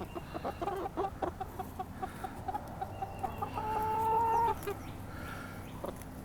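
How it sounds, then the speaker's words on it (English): Chickens clucking close by in a backyard flock, a quick rhythmic run of clucks building into a longer drawn-out call, then quieter scattered clucks against faint outdoor background. "I'm gonna sneak over here and check out the chickens."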